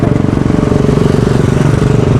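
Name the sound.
passing vehicle with a worn, smoking engine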